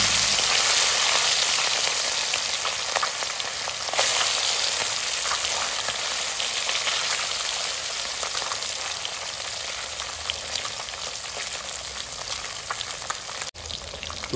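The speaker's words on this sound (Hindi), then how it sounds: "तो ये देसी मांगुर मछली जो है फ्राई हो रही है" Desi mangur fish fries in hot oil, giving a loud, dense, continuous crackling sizzle that holds steady for a long stretch with no voices.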